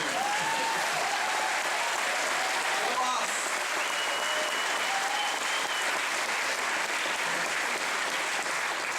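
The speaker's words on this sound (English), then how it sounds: "I think we deserve a huge round of applause" Sustained applause from a large crowd at a commencement ceremony, a dense, even roar of clapping that holds at full loudness for the whole stretch, with a few faint voices and whoops underneath.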